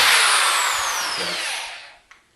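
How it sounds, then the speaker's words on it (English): A power drill runs at high speed through a wind turbine lid, a loud continuous whine that slows and stops, followed by a brief click. "now we can go through and drill through to the other side"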